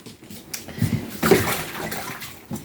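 Tap water runs and splashes unevenly in a kitchen sink as hands are rinsed, close and moderately loud for a couple of seconds.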